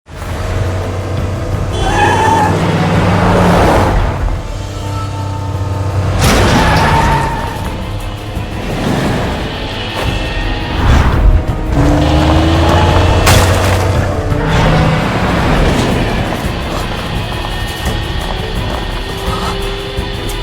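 Cars chase each other in an animated donghua scene, with engine roars, whooshes and heavy booming impacts overlapping loudly over a sustained rumble and no speech.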